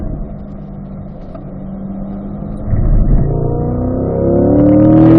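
A C8 Corvette engine on a track, a steady drone that swells as the car gets back on the throttle and rises in pitch while accelerating hard, close and loud.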